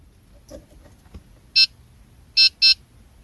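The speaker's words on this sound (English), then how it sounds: "When you hear the two beeping sound, switch the ignition off." Loud electronic beeps from a 2015-2020 Honda Fit while a key fob is programmed: one short beep, a pause, then a quick pair of identical beeps, close and clear over a quiet background.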